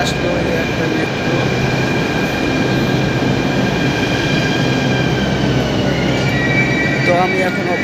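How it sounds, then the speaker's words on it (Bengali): A metro train pulls into a station with a loud, continuous rumble and high, drawn-out wheel squeal that grows stronger as it slows near the platform. "চলে আসলো এই একটা মেট্রো"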